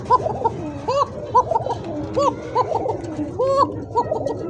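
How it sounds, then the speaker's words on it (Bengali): Coca pigeons, male and female, coo close by in a steady series of rolling, bubbling calls repeated every half second or so over a low background hum. "নরমাদি দুইটা কবুতরই ডাকে"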